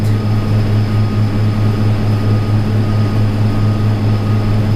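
A drone hovers nearby with a loud, steady, high-pitched propeller whine and buzz that holds constant throughout, with no talking.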